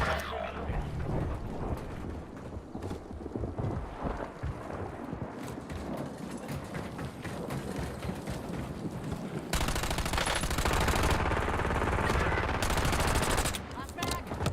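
Rapid gunfire in a battle royale video game, bursts of shots and clatter running throughout, growing denser and louder toward the end, with game voice prompts.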